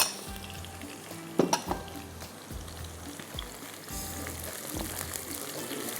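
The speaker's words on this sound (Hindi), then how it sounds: "थोड़ा सा इसमें ज़ीरा डालूंगी ताकि ज़ीरा भी इसके साथ फ्राई हो जाए।" Cumin seeds and chilies fry in hot oil for a kofta aloo dish, a steady close sizzle broken by spatula scrapes and knocks against the pan, no voices.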